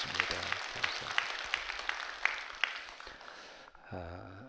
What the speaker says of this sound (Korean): 감사하면서 우리 박수 한번 해주셔요.